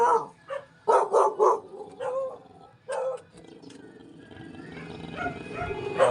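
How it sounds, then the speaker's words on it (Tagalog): A dog barks aggressively at close range in several loud, rapid bursts, then falls quiet as low rumbling background noise continues. "Grabe itong aso na to. Parang kakain ng buhay oh."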